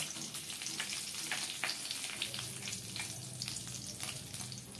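Dried red chillies and two bay leaves frying in hot oil, giving a continuous crackling sizzle with frequent sharp pops and spatters, close and steady, with no talk.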